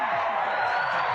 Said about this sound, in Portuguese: Eu queria os aplausos, então, para o Clodovil Hernandes.